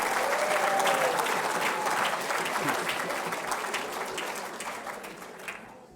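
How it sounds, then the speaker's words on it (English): Enthusiastic applause from a large crowd, dense clapping that gradually fades toward the end. "Keep the applause going, please, for Bob and Ann Kirk"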